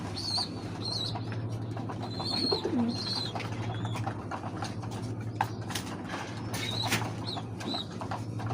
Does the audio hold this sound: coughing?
no